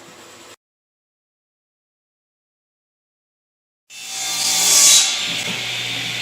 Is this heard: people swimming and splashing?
no